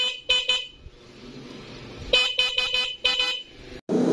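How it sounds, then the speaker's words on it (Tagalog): A dual motorcycle horn honks in short, loud bursts: two quick toots, a pause, then a longer run of rapid blasts, close and clear. "At may setup tayo ng busina, nakapareho ng mga busina na nakakabit sa ating mga motor."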